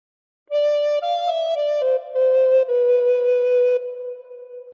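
A recorder plays a short phrase of The Star Spangled Banner, a few clear, breathy sustained notes stepping in pitch and ending on a held tone, solo and close.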